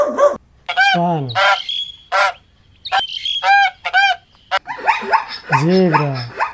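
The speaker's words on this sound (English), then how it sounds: "swan," Swans calling with loud, honking, goose-like notes that come in several separate bursts one after another, close and clear, with no talking.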